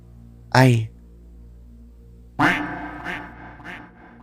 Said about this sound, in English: the echoing boom of a loud quack reverberated across the cosmos